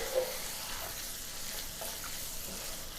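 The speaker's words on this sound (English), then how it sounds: "now I'm going to go ahead and add my onion. And we'll render that down just a few minutes" Onion frying in rendered bacon grease gives a steady, soft sizzle that holds evenly throughout, with no voices over it.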